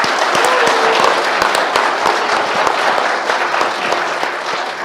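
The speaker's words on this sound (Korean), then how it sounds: "박수 부탁드리겠습니다" An audience claps steadily at a public rally, with sharp individual hand claps standing out within a continuous, loud wash of applause that slowly fades slightly.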